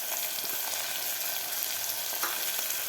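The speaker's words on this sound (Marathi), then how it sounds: "कांदा सुद्धा आपल्याला 2 ते 3 मिनिट व्यवस्थित परतून घ्यायचा आहे कांदा." Chopped onions, two medium ones, sautéing in a pan for pav bhaji made in a pressure cooker, giving a steady close hiss and crackle of frying with faint stirring scrapes, no voices.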